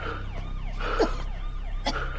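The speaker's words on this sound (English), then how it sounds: "Luckily, the sound of siren from police car was heard." A police car siren wails in a drama scene, its rising and falling tone sweeping repeatedly at moderate loudness with a little breathing noise mixed in.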